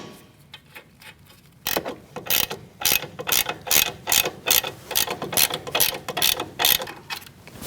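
A ratchet tightens the sway bar link nut on a 2016-2019 Chevrolet Cruze in a quick, close series of rhythmic clicking strokes that follow a few softer taps.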